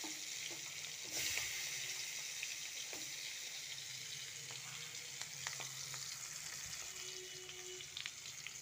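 Spice-coated onions sizzle in hot oil in a pan, a steady close frying hiss with occasional soft pops and faint clinks of a stirring utensil.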